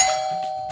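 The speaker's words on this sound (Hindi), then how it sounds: "दरवाजे की घंटी बज रही है" A doorbell rings with a bright, sustained electronic tone that sounds loud and close and then fades slightly, with faint background noise and no talking.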